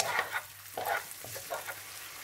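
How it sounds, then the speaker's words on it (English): Onion sizzles in heating olive oil with a soft, continuous hiss. Several scraping strokes of stirring push the pieces around the pan at close range, and no voices are heard. "once the oil starts heating up, start adding in your onion. Okay, stir that around."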